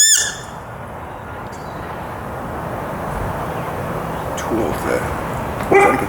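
Neighbor's dog barking during a garden clean-up, a few distant, sparse barks and yips over outdoor background noise, with a brief sharp sound at the start and a louder bark near the end.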